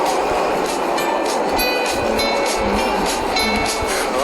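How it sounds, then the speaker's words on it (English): An arriving tram pulls in at a street crossing, a loud continuous rolling rumble with rhythmic wheel clacks and a faint metallic squeal over the top, with a little talk beneath. "Alright, this must be my train."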